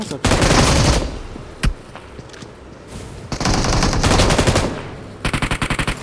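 Video game gunfire from a long-range sniper on a hillside, in loud sustained automatic bursts with a single sharp shot between them and a closing run of rapid evenly spaced shots, close and dominant.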